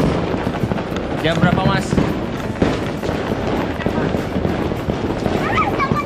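Midnight New Year's fireworks in Batu, Malang in heavy rain, a dense crackling and popping barrage with whistling rockets, loud and continuous, while people talk nearby.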